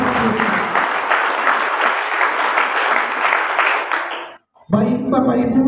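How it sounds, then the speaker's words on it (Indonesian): Loud, sustained applause fills a church congregation for about four seconds, breaking into a brief silence before clapping and cheering swell again. "Coba mari kita beri tepuk tangan yang paling meriah."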